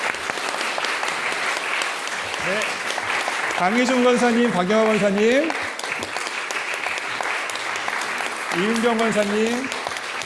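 A Korean church congregation in Bloomington applauds during a Sunday service marking the church's 40th anniversary, with sustained, dense clapping filling the room for the whole stretch while a voice reads out names over it.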